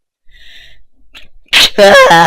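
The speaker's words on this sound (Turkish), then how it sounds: "Hapşırdım." A loud, close sneeze erupts after a quiet stretch with faint background sound during Happy Wheels gameplay commentary. It is one sharp burst followed by a voiced, drawn-out tail.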